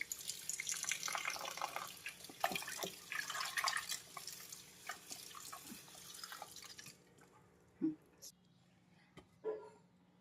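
Raw chicken pieces being washed in water for a Maharashtrian chicken curry, with splashing, dripping and handling sounds that fade out, leaving a few isolated drips and knocks near the end.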